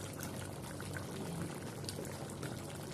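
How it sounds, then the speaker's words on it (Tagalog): A pot of chicken curry bubbles at a steady simmer, a soft continuous burbling and gurgling heard close up and fairly quiet, with no voices over it. "Kulo ng ating chicken curry."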